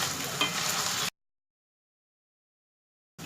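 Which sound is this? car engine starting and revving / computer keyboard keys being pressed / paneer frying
paneer frying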